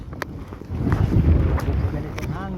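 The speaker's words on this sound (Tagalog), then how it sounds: "Oh, lakas ng alon." Strong waves and gusting wind buffet a small fishing boat at sea, with a rough, rushing wash under a few brief spoken words.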